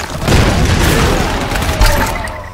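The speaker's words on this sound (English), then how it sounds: "Fire a grenade just for the sake of it." A grenade launched and exploding in the Tomb Raider video game, a loud, close, sustained booming blast with rumbling debris, then a second heavy thump near the end, with no talk over it.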